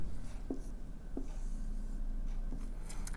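A pen scratches across paper as a quadratic graph is sketched, a soft continuous scraping with a few small taps and strokes, close and fairly quiet, with no voice over it.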